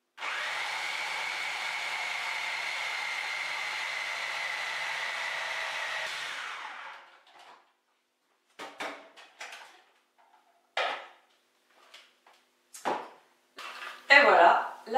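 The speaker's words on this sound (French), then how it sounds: "Je mets au robot." A food processor whirs steadily for about six seconds while mixing almond dough for vanilla crescent cookies, then stops, followed by scattered short knocks and clatters in a quiet kitchen.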